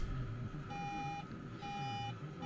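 Two evenly spaced electronic dashboard warning beeps sound inside a Temsa LD 13 SB coach over a low engine hum, each a steady half-second tone.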